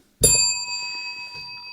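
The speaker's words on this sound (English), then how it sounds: "let's hit that ding" A single bright bell ding strikes sharply and rings on with a long, clear sustain, loud and alone with no talk over it.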